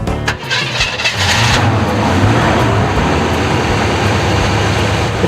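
A customized car with a 350 Chevy Camaro engine of about 1990 and a 350 turbo automatic transmission cranks briefly and then catches. It settles into a loud, close, steady rumbling idle.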